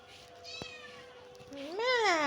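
Pet cat meowing twice, a short drawn-out mew followed by a louder rising and falling meow, close and clear indoors, with a brief tap between them.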